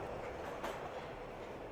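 A Paris underground metro train running through a long tunnel, heard from inside as a steady, loud rumble and roar of wheels on rail with a faint clatter.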